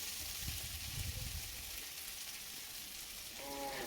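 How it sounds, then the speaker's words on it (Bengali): Vegetables fry in oil with mustard paste, making a faint, even hiss of sizzling that continues unbroken and alone. "এবার সর্ষে বাটা দিয়ে আবার একটুখানি ভেজে নিচ্ছি"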